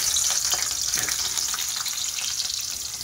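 Onions for chicken biryani fry in a pan with a dense, even, close-up sizzle and crackle that holds steady throughout, no voices present.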